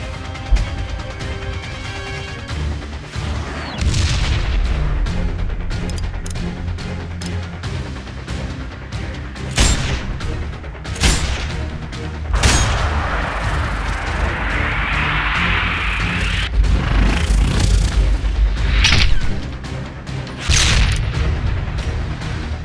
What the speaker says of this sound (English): We're gonna be pinned till we can stop that mortar fire.